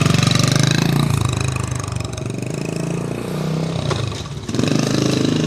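A mint original 1980 Honda CT70 motorcycle with a semi-automatic transmission runs steadily close by, its small engine holding a loud, even drone with a slight rise in revs near the end, no talking.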